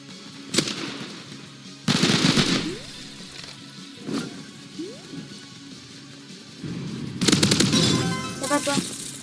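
Rapid bursts of weapon fire in the shooter video game Hyperscape, several loud rattling volleys separated by short gaps, with a person's voice heard between them.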